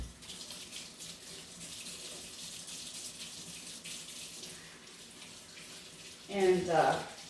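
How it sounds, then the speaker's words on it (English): A kitchen tap runs steadily into the sink during greasy hand washing with dish soap, a constant hissing wash of water, and near the end a brief voice is heard over it. "I gotta wash my hands because they're really greasy"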